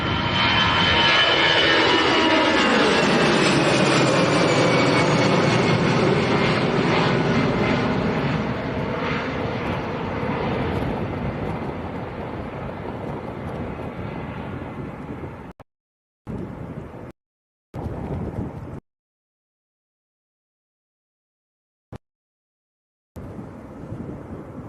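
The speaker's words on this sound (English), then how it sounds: "This is EasyJet to Belfast." An EasyJet airliner bound for Belfast passes at Manchester Airport, a loud engine roar rising and sweeping past, then fading, followed by near-silence with a few brief cutouts.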